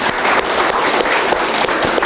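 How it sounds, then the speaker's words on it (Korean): A Korean audience at a book-launch concert bursts into dense, loud applause, many hands clapping together in a brief, sustained roar. "한번 큰 박수로 축하를 함께 할까요?"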